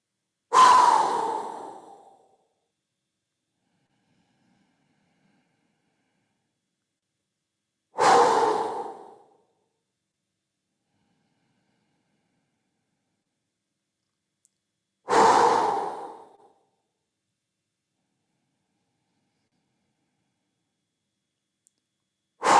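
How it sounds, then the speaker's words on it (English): Three slow, deep breaths during a summer yoga session, each a strong breath of a second or two followed by about six seconds of silence, close and clear, with a fourth breath starting at the very end. "Inhale through the nose."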